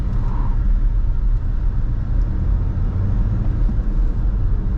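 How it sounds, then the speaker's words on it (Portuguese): A Haval H6 GT hybrid SUV's engine drones and rumbles steadily as it accelerates on a test track, heard from inside or nearby, loud and continuous. "O carro acelera bem"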